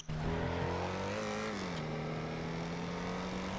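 An Audi's engine in the Getaway Driver game drones loud and close, its pitch climbing and then settling into a steady cruising tone, with no talk over it.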